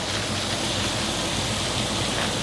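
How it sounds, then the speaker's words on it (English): A dense, steady hiss and crackle of vegetables stir-frying with Maggi noodles in a hot pan, continuous and close, with no talking. "All right, let's add this in. That sizzle."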